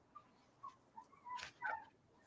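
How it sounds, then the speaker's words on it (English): A dog whimpers and gives short yips outdoors, excited at a bird; several brief high whines come in quick bursts, fairly faint and distant, with no talk over them. "I've got a dog out here that's going crazy."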